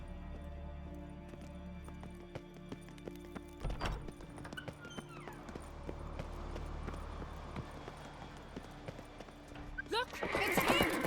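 Horse hooves clip-clop at a steady gait amid game music and ambient effects, with a whinny and a louder burst of action near the end.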